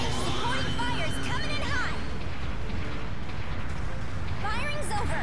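Supporting artillery fire in the mech game Gundam Battle Operation 2: a steady, heavy barrage of rumbling blasts and booms rolls on throughout, with brief whistling tones and voice-like sounds mixed over it.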